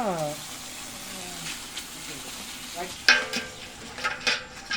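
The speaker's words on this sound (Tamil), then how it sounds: "நல்லா ஒன்றா மாதிரி நல்லா மசாலா ஏற மாதிரி கிளறணும்" Chicken and masala are stirred in a hot pan, with a gentle frying sizzle under the stirring. Sharper scrapes and utensil knocks come from about three seconds on, close and moderately loud.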